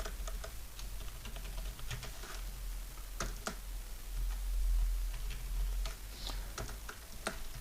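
A computer keyboard is typed on in quick, light, irregular clicks, with short pauses between bursts, faint and close over a steady low background hum.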